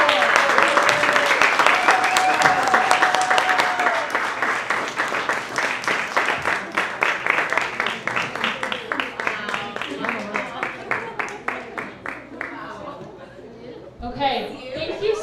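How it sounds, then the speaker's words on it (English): Audience applause at a DC Latiné educators' storytelling event: a dense burst of many hands clapping with cheering and chatter, fading to a scattered, rhythmic patter before a brief final swell. "Can we get another round of applause for everyone who's spoken already?"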